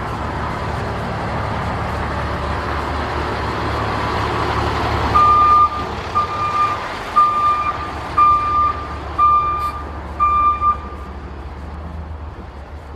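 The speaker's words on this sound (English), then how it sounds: "Lots of reversing trucks today." Several trucks reversing on a city waterfront street, their backup alarms sounding a run of steady, evenly spaced beeps over a constant rumble of traffic and engine noise.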